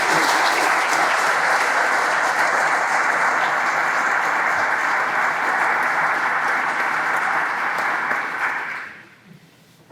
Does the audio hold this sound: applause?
yes